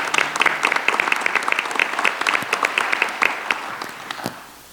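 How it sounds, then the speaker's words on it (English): Steady audience applause at a governance conference honouring the leadership team, many claps blending into a sustained patter that tapers off at the end. "You should give them all a round of applause."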